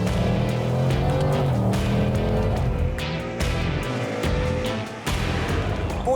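A loud, deep American V8 muscle car engine roar, likely a Ford Mustang, holds steady close up, dipping briefly a couple of times as if shifting gears before surging again.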